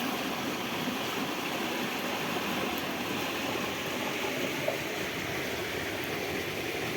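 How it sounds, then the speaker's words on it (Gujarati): Floodwater surges and rushes during heavy rain, a dense, unbroken roar of flowing water that stays steady and fairly loud throughout, with no voices. "આમ જોવો કરો ઉફાળા મારી રહ્યું પાણી"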